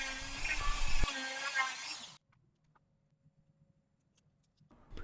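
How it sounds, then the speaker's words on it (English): A cut plastic action figure arm is ground down with a whining power tool, a loud continuous grind for about two seconds that then cuts off into near silence with a few faint ticks. "I'm going to cut this in half, and then grind it down on both sides"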